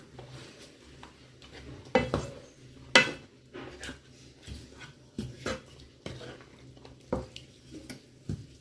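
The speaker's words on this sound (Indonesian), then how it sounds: "Ini kita aduk-aduk aja sampai airnya sedikit menyusut ya teman-teman" A utensil stirs spicy squid with stinky beans in a pan, giving repeated scraping clinks and knocks against the metal over a soft background simmer, with a voice talking at moments.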